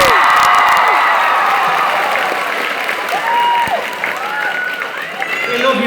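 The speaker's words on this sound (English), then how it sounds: "Give it up for Liam." A live theatre crowd at a touring YouTuber stage show in Austin, Texas applauds and cheers for an audience member named Liam, a loud, sustained wash of clapping with whoops and scattered shouts throughout.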